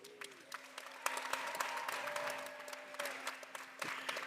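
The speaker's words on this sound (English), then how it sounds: "let's give all of those connections a round of applause" A graduation crowd at the University of Maryland claps steadily for about four seconds, a dense, even wash of applause with a faint sustained tone running underneath and no voices standing out.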